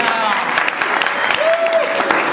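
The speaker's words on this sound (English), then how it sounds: "This might get the largest round of applause" An audience at a speech introduction claps in a steady, dense round of applause throughout, with a voice rising briefly over the clapping.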